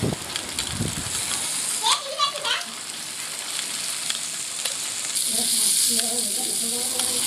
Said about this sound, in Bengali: এইভাবে পাতুরিগুলোকে এপিট ওপিট করে ভেজে নিতে হবে।